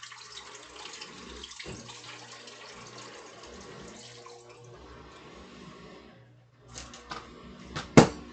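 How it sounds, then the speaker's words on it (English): Water pours into a filter in a home kitchen, a steady continuous wash of flow that runs for several seconds before dropping off, followed by a few brief splashes and clunks near the end. "Put some water to filter."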